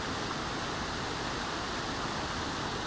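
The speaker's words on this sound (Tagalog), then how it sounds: "marinig mo yung daloy ng tubig at huni ng mga ibon." Stream water flows in a rural area of New Bataan, Davao de Oro, a steady full rushing hiss heard close and continuous, with no talking.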